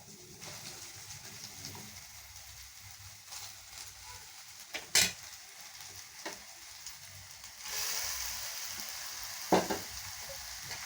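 In a home kitchen, a spoon stirs cooked rice through fried onions, dried red chillies and curry leaves in a pan for tamarind rice. Soft sizzling and scraping run under a few sharp metallic clinks.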